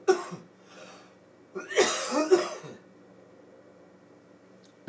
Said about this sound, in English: there's a man coughing back there